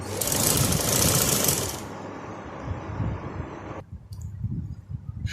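A sewing machine stitches shalwar cloth in a fast, close mechanical whir that cuts off after about two seconds, followed by quieter rattling and handling sounds.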